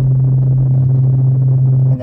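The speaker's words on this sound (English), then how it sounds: "the braking sound starts really slow and it speeds up" A steady electronic warning tone from a Volkswagen race trainer's braking support, a single loud sustained pitch holding for about two seconds before cutting off abruptly.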